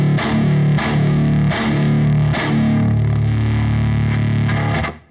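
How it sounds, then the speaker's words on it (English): Heavily distorted electric guitar chugs through a Rat fuzz pedal modeled on an Axe FX, with loud palm-muted rhythm hits recurring steadily under sustained fuzzy, broken-up tone that cuts off at the end. "So in those nasty chugs, you can just really hear the brokenness and the fuzziness of the rat."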